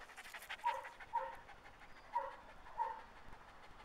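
A male greyhound pants close by in four slow, evenly spaced breathy bursts, with no talking.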